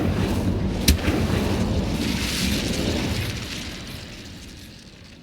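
Incendio fire spell cast in Hogwarts Legacy: a sharp crack of ignition followed by a loud, roaring fiery blast that rumbles and slowly fades over several seconds, with no voices.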